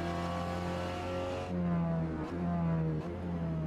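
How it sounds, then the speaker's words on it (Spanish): A loud Seat Leon TCR race car engine drones at high revs, then drops pitch with quick gear shifts, two brief dips in the roar as it climbs again. "Me encanta el sonido de este coche, ¿eh? Suena muy bien en el cambio de marcha."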